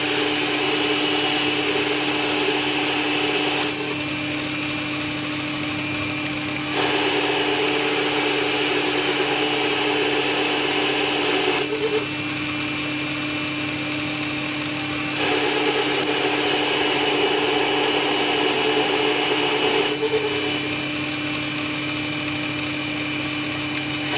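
A milling machine takes a 100-thousandths pass on a metal dirt bike CDI test fixture, giving a loud, continuous cutting whine over a steady motor hum, with the cut changing in intensity in several long stretches.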